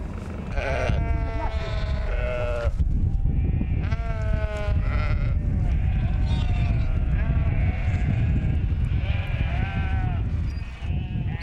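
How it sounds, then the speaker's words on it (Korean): A flock of sheep blocking a road in a desert oasis village in Jordan bleats repeatedly, with several overlapping calls near and far over a steady outdoor rumble, and some talk heard as well. "한 무리의 양떼가 길을 막는다."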